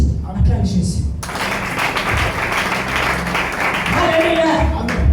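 Church congregation bursts into loud clapping and cheering to acclaim Jesus, the applause rising suddenly after a short spoken opening and continuing steadily, with voices shouting over it.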